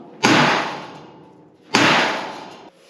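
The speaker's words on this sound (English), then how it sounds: "Gotta get the big hammer." Two heavy, loud blows from a big hammer on the steel bed of a 1954 Chevy 3100 truck, spaced about a second and a half apart, each ringing out briefly before fading.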